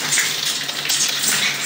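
Water gushing from a hose pipe, a loud continuous hissing splash with uneven surges, heard up close with no voices.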